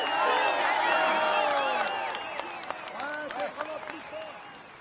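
A crowd in a cycling video game cheers and applauds a stage winner, with dense clapping and whoops that slowly thin out. Voices chatter over the ovation.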